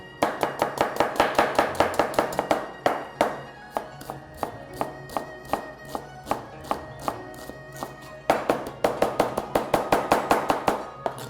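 A very sharp kitchen knife finely chops onion on a board. Rapid, close, crisp taps come in quick bursts, then slow to spaced single strokes before speeding up again.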